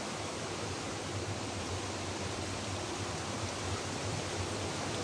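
Steady flowing water from a mountain stream, a dense continuous rushing wash with no clear gaps, moderately loud and close.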